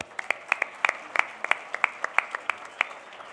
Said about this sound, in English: Let's give all of our partners and sponsors a huge round of applause.